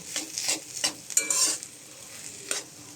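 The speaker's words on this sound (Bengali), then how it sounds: "দিয়ে চুলা বন্ধ করে দিব তারপরে মিশিয়ে নিব" Spicy potato laddu filling stirred and mixed in a pan with coriander leaves and green chillies, a spoon scraping and clinking in short irregular strokes over a light sizzle, close and moderately quiet.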